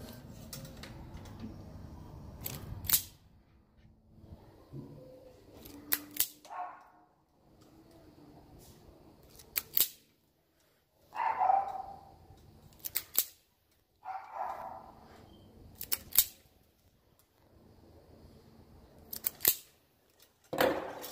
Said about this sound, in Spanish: vamos a pelar nuestro cable